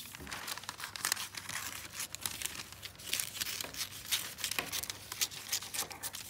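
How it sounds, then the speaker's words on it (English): Scissors cutting quickly around a cardboard shape for a classroom sculpture, giving a steady run of close crinkling, rasping snips under faint background noise. "I'm cutting this really quickly."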